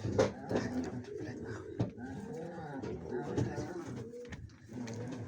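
Pigeons coo in soft, repeated low throaty calls close by in a loft, with a voice talking over them throughout.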